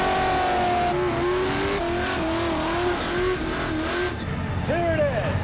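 At a drag race, a small-block Chevy runs against a 1974 Plymouth Duster with a 500 cubic inch big-block Mopar engine. The loud engines roar and rev with rising and falling whines, and a voice talks over them.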